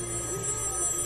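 A red telephone rings in the horror film The Cabin in the Woods, a short steady electronic ring heard through a reaction recording, moderately loud with no voices over it.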